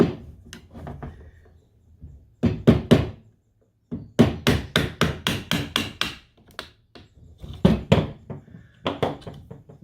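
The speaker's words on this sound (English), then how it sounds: "knock out the pin" Sharp metallic taps of a drift punch driving the pin out of a Steyr Scout rifle bipod, close and loud, in several rapid bursts of three to seven strikes separated by short pauses.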